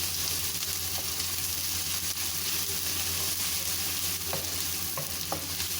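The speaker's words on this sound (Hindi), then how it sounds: "2 टेबलस्पून अदरक लहसुन का पेस्ट डाल देंगे। ये देखिए, इसको थोड़ा सा हम भूनेंगे।" Ginger garlic paste fries in a pan for a gobi dish, giving a steady, fairly quiet sizzle with faint scraping stirs and small clinks toward the end.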